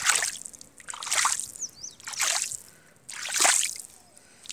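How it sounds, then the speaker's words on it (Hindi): Water trickling down a rocky hillside seep, coming in close, splashy surges of flow that swell and fade roughly once a second, with no talking. "देखिए पानी उतर रहा है"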